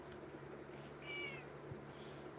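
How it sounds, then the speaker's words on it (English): A pet cat gives a single short, clear meow midway through, heard against a quiet background hum indoors. "My cat's over here trying to knock stuff, trying to get in the way."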